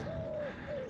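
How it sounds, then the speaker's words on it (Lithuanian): A bird in the Alps gives two soft, hooting coo-like calls in quick succession, moderately near, against a steady outdoor background hiss. "Paukščiai čiulba tik ir viskas."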